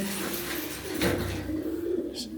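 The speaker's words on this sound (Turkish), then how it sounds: "kümesimde beslediğim kuşları, beğendiğim, sevdiğim kuşları ya uçurtuyorum ya besliyorum" Pigeons coo softly and repeatedly nearby in a coop in Ankara, with a low murmur of birds and faint background rustling.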